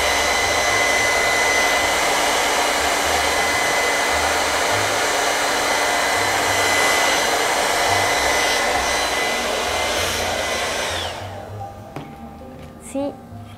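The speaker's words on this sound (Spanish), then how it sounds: "Voy a usar un secador para acelerar nuestro secado." A hair dryer blows steadily up close to dry glue, a loud continuous whooshing roar that winds down near the end, followed by a quieter stretch with faint handling sounds.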